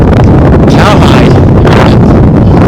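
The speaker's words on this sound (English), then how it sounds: "It's a little windy, so hopefully you can hear me out." Strong wind buffeting a microphone outdoors at a truck trailer, loud continuous roaring rumble filling the whole clip with gusty surges.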